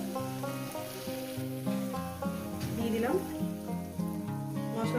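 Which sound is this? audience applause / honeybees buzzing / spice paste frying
spice paste frying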